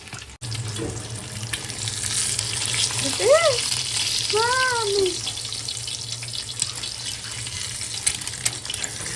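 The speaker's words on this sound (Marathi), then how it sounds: "आता त्याच्यावरती मसाले टाकते आणि मी थोडी घाबरते कारण की तेल उडतंय" Hot oil spits and sizzles as spices are dropped into a frying pan in a home kitchen, a continuous close crackle over a low steady hum, with a few short rising-falling squeaks in the middle.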